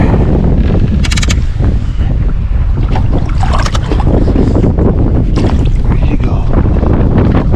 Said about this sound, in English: Man, that wind is crazy.